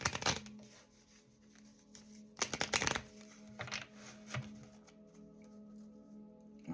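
A deck of playing cards from around 2021 or 2022 being shuffled by hand, with several quick riffling bursts and soft card slaps close up, separated by quiet pauses.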